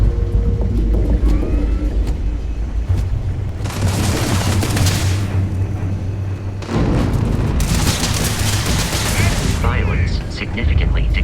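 Gunfire and heavy blasts in the sci-fi video game Starfield, two long loud bursts of shooting over a constant rumbling background with game voices and effects.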